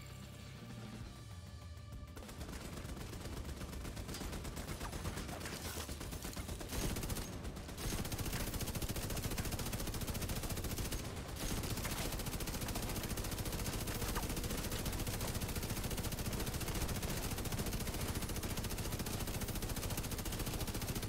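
Rapid, continuous automatic fire from a turret in The Division 2, a dense, loud stream of shots that begins after a brief quieter lead-in and runs unbroken to the end.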